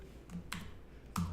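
A few quiet, separate keystrokes on a computer keyboard, soft clicks spaced unevenly over about a second with no speech.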